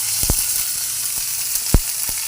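Green chili paste and cumin powder fry in a modest amount of oil in a kadai: a constant bright sizzle punctuated by several sharp knocks of a spoon stirring against the pan, with no talking.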